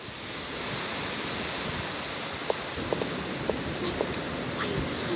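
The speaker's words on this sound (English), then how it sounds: "Still quite stormy. The hurricane has been lasting for a few days now." Hurricane wind roars as a steady, loud broadband rush, with a few faint clicks and taps scattered over it and no clear voices.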